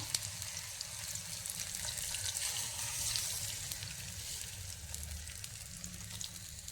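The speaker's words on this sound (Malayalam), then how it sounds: "ഇനി നമുക്കിതിലേക്ക് ഉടച്ചു വെച്ചിരിക്കുന്ന മുട്ട ഒഴിച്ചു കൊടുക്കാം" Beaten egg poured into a hot pan with shaped banana pieces, giving a steady continuous sizzle and frying crackle, moderately quiet, with no talk.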